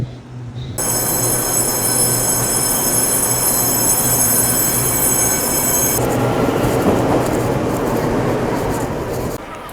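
A train stands idling at a station in Taichung, giving a steady loud hum with a high electrical whine that cuts out partway through, leaving a broad rumble.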